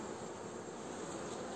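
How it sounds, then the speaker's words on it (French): A bee buzzes in a continuous, steady drone, close by and fairly quiet, with no talking over it. "il y a une abeille qui essaye de me piquer"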